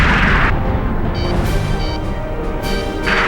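Booming explosions in the combat flight game Ace Combat 5: The Unsung War, a dense, loud roar of blasts and rumbling with droning tones, continuous and unbroken, without talking.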